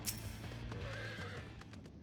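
A video game horse mount whinnies in a long, wavering call over a steady low background hum, with faint hoof-like thuds underneath, in Final Fantasy XIV.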